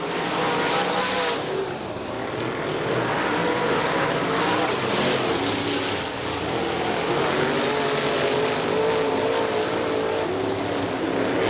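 Loud, continuous roar of Late Model race car engines circling the oval at Butler Motor Speedway, the engine drone rising and falling steadily with no pauses.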